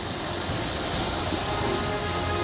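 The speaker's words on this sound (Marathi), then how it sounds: "मध्यरात्रीपासून जोरदार पाऊस पडतोय" Dense, steady downpour of heavy rain in Pathrud, Bhum taluka, Dharashiv district, Marathwada, hissing continuously, with no voices and no breaks.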